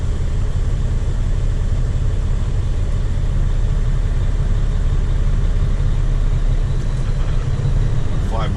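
A 2007 Freightliner Columbia truck rolls forward in fourth gear, its engine giving a loud, steady low rumble that runs unbroken throughout.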